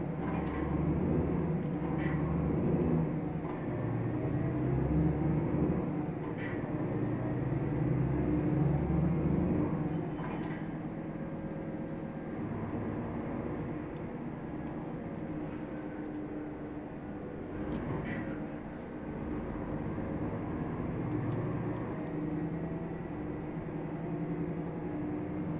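Scania R450 truck cruising in Euro Truck Simulator 2, a steady low diesel engine drone with road rumble and occasional hiss, continuous and close, with no talk over it.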